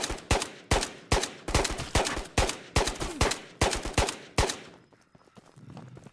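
Rapid bursts of gunfire from the video game Ghosts of Tabor, with around a dozen loud, close shots in an uneven rhythm before the firing stops and quieter game ambience takes over.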